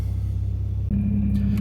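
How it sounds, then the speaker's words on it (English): A running car engine with a recently welded exhaust leak rumbles loudly at idle, then its tone abruptly shifts partway through into a steadier, higher hum with a faint uneven flutter. "I want to show / give you guys the audio of what's going on, what I mean by sputtering."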